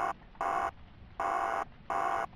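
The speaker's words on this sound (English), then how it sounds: "That's a creepy alarm." A creepy electronic alarm from the video game Ghost of Tomorrow sounds alone in three evenly spaced, sustained buzzing bursts, each lasting a few tenths of a second, fairly faint.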